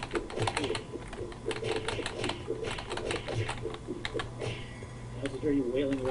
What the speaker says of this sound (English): I just hear you wailing away on your keyboard.